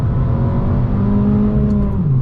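Abarth 695 70th Anniversario engine held at steady revs while the car is thrown hard through a corner, a loud, continuous droning growl with a slight pitch drift near the end and no talking.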